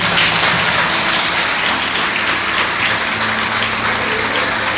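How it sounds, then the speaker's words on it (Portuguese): A church congregation at a sermon breaks into loud, dense applause, a steady wash of many hands clapping together that fills the space without pause. "Você poderia ter aplaudido agora"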